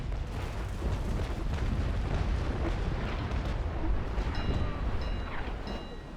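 Broadside cannon fire from sailing warships in the naval combat game Naval Action, a sustained loud rumbling roar of overlapping booms with ringing tonal effects near the end, no talk.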